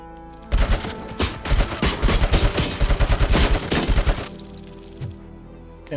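Enemy turrets in the game RoboCop: Rogue City fire a loud, rapid automatic burst of close gunshots lasting several seconds, then stop abruptly, leaving a quieter hum.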